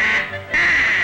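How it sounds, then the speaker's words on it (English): A cartoon goose in a 1960 animated film honks twice in quick succession, loud and close, with a brief nasal pause between the calls. "The little goose was practicing his honk."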